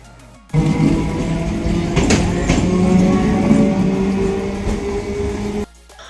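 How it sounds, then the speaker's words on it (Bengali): A passenger train rolls into a station platform with a steady, close rumble and clatter that starts abruptly, holds for about five seconds and then cuts off to quiet. "আমাদের ট্রেনও কিন্তু প্ল্যাটফর্মে ঢুকে যাচ্ছে"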